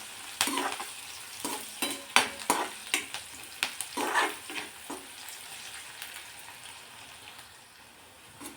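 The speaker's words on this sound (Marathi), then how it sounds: "कांदा तेलावर परतून घ्यायचा" Onion frying in oil in a pan, with a sputtering sizzle and a run of sharp scraping stir strokes that come quickly at first and then fade into a softer, steady fry, with no voices.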